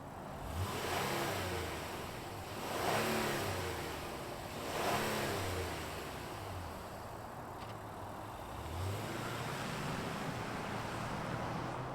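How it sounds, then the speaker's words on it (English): A 2024 Honda Passport Trailsport with a V6 and all-wheel drive rolls past outdoors, its engine rising and falling in a few moderate swells over steady background noise. "let's fire this up and see it roll."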